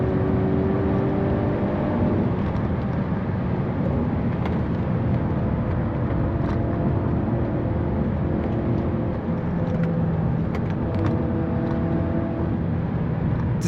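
A Hyundai Kona N, the last petrol N model, laps a race track on Pirelli tyres. A loud, steady engine and road roar carries through, with drawn-out tonal squeals from the tyres rising and fading at intervals.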